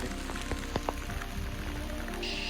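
Steady rain in Malenadu, Karnataka patters on a surface, a soft continuous hiss with occasional louder drips.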